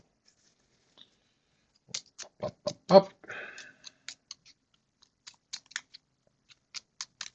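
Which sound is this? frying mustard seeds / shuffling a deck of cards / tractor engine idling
shuffling a deck of cards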